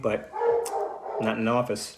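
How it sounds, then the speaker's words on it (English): A dog barks somewhere in the background, short muffled yaps partly buried under someone talking close to the microphone. "Again, sorry about the barking,"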